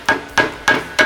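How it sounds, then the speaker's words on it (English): Four sharp, evenly spaced hammer blows strike a big flathead screwdriver wedged in an A-arm tube, tapping out a bushing on a Polaris Ranger; close, loud metallic knocks. "take a big flathead screwdriver, stick it into the A-arm tube, angle it up, and you'll feel it tap the backside of the bushing"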